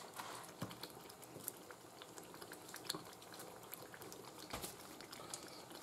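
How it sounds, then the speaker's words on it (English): Food bubbles gently in a pot, soft, faint popping and gurgling with scattered small clicks and taps, steady throughout and heard alone. "that bubbling sounds amazing"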